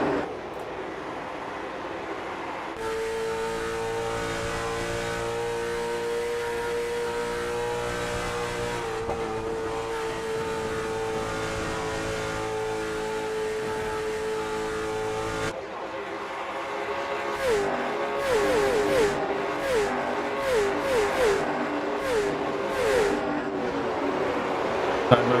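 Late model race cars lapping the steeply banked Rockingham Speedway oval in iRacing, engines droning steadily at high revs, with pitch shifts as cars pass and a busier, rising roar of several cars toward the end.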